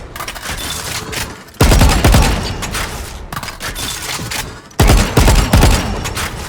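A gun with the Arcane 2.0 skin fires in the video game Valorant in two sharp bursts of rapid automatic shots. Each burst is loud and punchy, with lighter shooting and game ambience around them.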